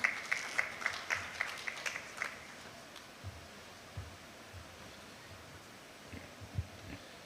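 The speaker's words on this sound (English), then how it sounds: "Let's give a clap for him as he comes." Scattered audience clapping at a housing industry presentation in Nigeria, a quick run of regular claps fading after a couple of seconds, then quiet room noise with a few faint knocks.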